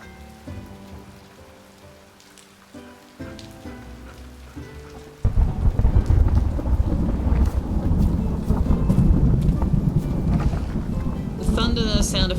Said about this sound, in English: Thunder sound effect is unnecessarily loud